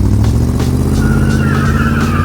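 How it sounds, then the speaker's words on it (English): A 1980 C3 Corvette holds a loud, steady engine roar through a burnout, with a thin high squeal of spinning tires rising in the background, no talking. "now it's roasting them with relative ease"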